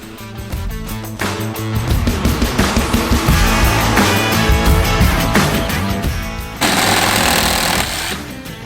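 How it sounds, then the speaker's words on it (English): Small hacksaw blade rasping through a Jeep TJ steering shaft, loud, close, fast back-and-forth strokes in a dense continuous rhythm. "I'm going to use my little hacksaw here. And hopefully this little tiny blade will go through that."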